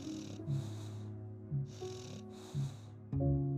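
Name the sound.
snoring while sleeping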